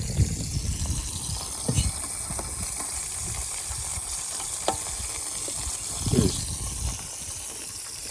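Burgers sizzle on a Blackstone griddle at a campsite, a steady bright hiss with scattered pops and a few scraping spatula touches, close and continuous with no talking.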